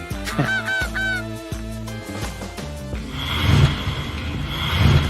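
Goose honking over a playful music bed, several nasal honks in quick succession near the start, loud and close, while the music carries on and swells toward the end.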